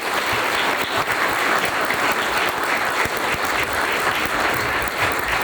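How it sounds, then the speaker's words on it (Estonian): Loud, dense applause from a concert audience honoring a performer, steady and sustained from start to finish, with no talk over it. "kõva, suur aplaus"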